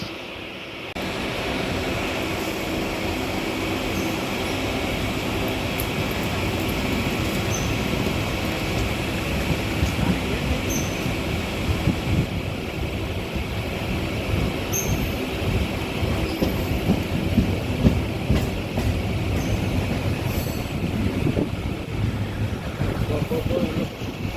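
A passenger train sets off from Pattabiram Military Siding station on the Perambur Loco Works to Pattabiram E Depo military line, rolling along the rails with a steady, close rumble and faint high squeals throughout, a voice briefly heard over it.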